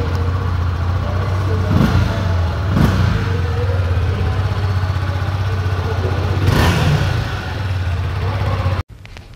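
A 2023 Honda CB 300F Twister motorcycle engine with a steady low idle and a few brief revs rising above it, recorded close. The engine cuts out abruptly near the end.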